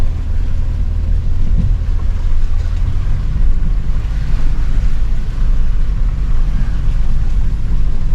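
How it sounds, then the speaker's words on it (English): An off-road vehicle fords a rocky-bottomed water crossing on the way to a homestead in Litchfield National Park, giving a steady, loud low rumble of engine and churning water throughout with no talk. "Another water crossing."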